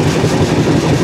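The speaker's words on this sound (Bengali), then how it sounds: "ট্রেন কিন্তু আবার গতি নিচ্ছে।" The Puri–Kamakhya Express runs at speed, a dense, loud, close rumble of wheels and carriage with a steady mechanical drone throughout this brief moment.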